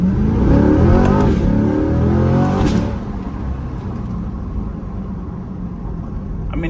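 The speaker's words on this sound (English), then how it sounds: "I don't typically like Corvettes, but this one, it sounds great." Close, loud Corvette engine revving and accelerating with the windows down, pitch climbing before easing off into a steady cruising drone.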